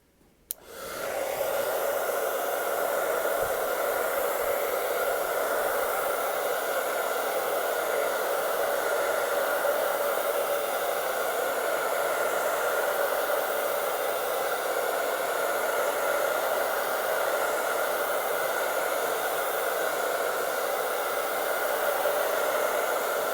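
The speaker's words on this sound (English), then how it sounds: "And I'll turn the hairdryer back on." A hair dryer clicks on and blows with a steady, loud whooshing hum that holds unchanged throughout.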